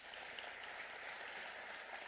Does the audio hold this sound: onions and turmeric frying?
no